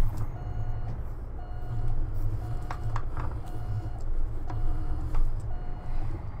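Steady reversing beeps from a truck backing up in American Truck Simulator, evenly spaced tones repeating about once a second over a continuous low diesel engine rumble.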